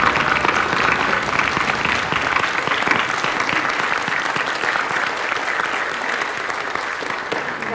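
Sustained applause from an audience at a school board meeting, honoring school staff, a dense steady clapping that carries on loudly throughout.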